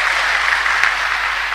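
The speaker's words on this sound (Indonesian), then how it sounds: "Tepuk tangan dong untuk ini ibu." Church congregation applauding for women dressed in kebaya during an Indonesian sermon, a dense, even burst of many hands clapping that fills the room without a break.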